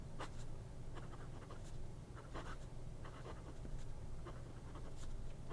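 Hongdian A6 fountain pen with a soft fine nib moving across paper, faint close scratchy strokes in short bursts against quiet room tone.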